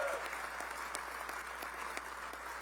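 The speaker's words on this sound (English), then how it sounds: "another round of applause." Applause fills the room at a basketball head coach's introductory press conference, steady crowd clapping heard at a moderate distance, fairly even throughout with no talk over it.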